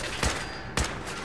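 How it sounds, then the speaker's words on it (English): Two loud bursts of combat rifle fire in Fallout 4, each a sharp blast with a ringing tail, spaced about half a second apart against a steady game background. "Getting shot from the side."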